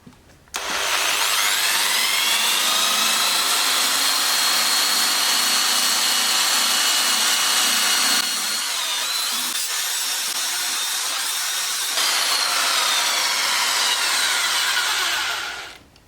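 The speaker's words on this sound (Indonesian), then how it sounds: "Jadi alat adaptor ini bekerja dengan baik, merubah bor menjadi gerinda." A power drill fitted with a grinder adapter runs continuously at high speed, a loud, steady whine with a slight change in tone midway before it stops.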